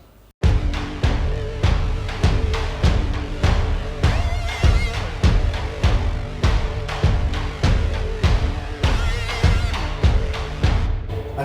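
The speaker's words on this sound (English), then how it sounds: "I've gone for sort of almost a metal electric guitar squeal." Industrial-style music track of pounding big drums in a steady driving rhythm, overlaid with a sustained, distorted metal electric guitar squeal, loud and dense throughout with no speech.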